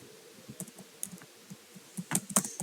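Computer keyboard typing of Java code, a quick run of soft, close key clicks building to a denser flurry of taps near the end, with no talking.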